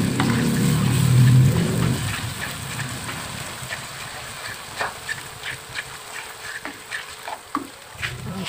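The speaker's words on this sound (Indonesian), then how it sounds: "sekarang kita goreng bumbunya sampai matang ya, sampai beraroma harum" Spice paste fried in a pan for Indonesian daging gepuk gives a steady sizzle with scraping stir strokes; it is louder at first, then settles into softer frying with intermittent clinks of the utensil, close by.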